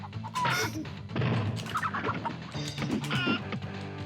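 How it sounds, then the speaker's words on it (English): Game chicken Pojo from the fighting game Mace: The Dark Age clucks in a few loud, choppy bursts over about four seconds, with layered game sound effects. Fire-breathing is part of its attack set. "You could actually play as Pojo the fire-breathing chicken."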